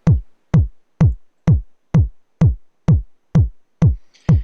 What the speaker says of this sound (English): PurestDrive is the purest overdrive you can possibly have, and it sounds like this.